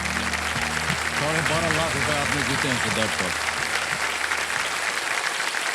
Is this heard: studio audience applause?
yes